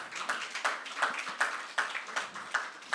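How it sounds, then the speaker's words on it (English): A small audience at an African report launch claps in a light, scattered round, individual hand claps close by in a loose irregular rhythm, with no voices. "A round of applause, thank you."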